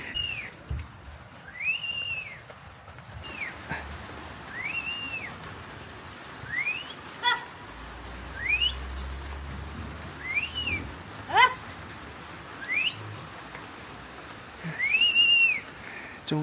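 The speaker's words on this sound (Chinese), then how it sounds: "牧牛人他是吹着口哨的哈" A cattle herder on a high plateau above 4000 metres near Litang whistles short rising-and-falling notes, repeated about eight times at loose intervals over faint open-air background.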